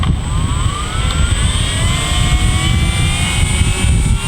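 A steady, high-pitched engine whine with droning motor tones from a Leleka reconnaissance drone's engine at low throttle holds throughout, loud and close, with no pauses or speech.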